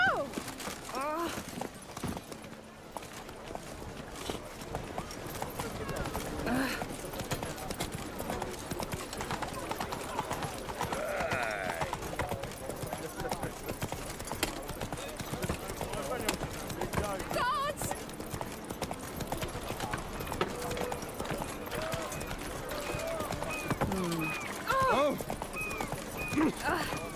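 Geralt's horse Roach galloping in The Witcher 3: Wild Hunt, a steady rapid clip-clop of hooves running close by throughout, with game ambience and a few short voice sounds.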